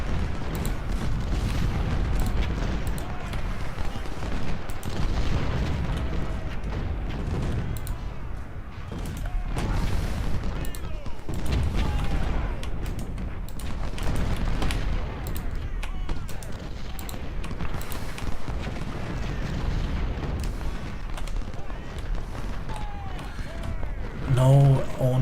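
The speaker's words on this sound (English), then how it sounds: "Let's blast him out with the artillery." Artillery fire in the Civil War strategy game Ultimate General: Civil War, with deep booms rumbling under a steady battle din throughout, and someone talking over it.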